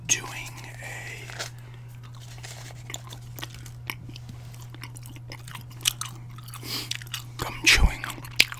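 Gum is chewed close to the microphone, with soft wet smacks and crunches repeating irregularly over a steady low hum and growing denser toward the end.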